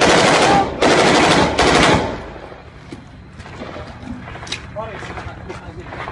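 Heavy automatic gunfire in urban combat in Iraq, loud bursts in the first two seconds followed by quieter scattered shots and background noise, with shouting voices.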